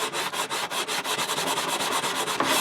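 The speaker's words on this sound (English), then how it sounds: "Crudding up my sandpaper already." Sandpaper scrubbing the wood of a worn pawn shop guitar, fast back-and-forth strokes in a steady rhythm, close and loud with no talking.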